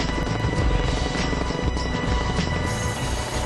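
A Chinook twin-rotor helicopter flying, a loud dense roar with rumbling low thump that stays constant and close for the whole stretch.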